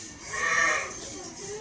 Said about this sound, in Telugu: గొర్రెలు మే